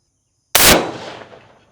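A single loud .450 Bushmaster rifle shot fired at an anvil, a sharp close blast followed by a decaying outdoor echo tail, with no talk.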